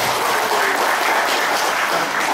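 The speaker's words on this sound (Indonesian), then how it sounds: "Tepuk tangan dong" Dense, steady applause from an audience at an awards-night event, many hands clapping at once in a continuous wash with no single claps standing out and no speech on top.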